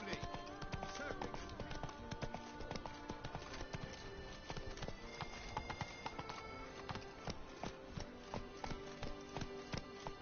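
Horse hooves clip-clop in a steady, brisk rhythm as a horse is ridden through a medieval setting in the video game The Witcher 3, with faint voices and background game sounds around the footfalls.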